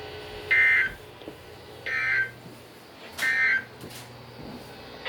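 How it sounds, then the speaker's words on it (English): NOAA Weather Radio emergency alert system weekly test tones: three short, bright electronic bursts spaced about a second apart over a faint hissing broadcast background. "This concludes the weekly test of the warning alarm system."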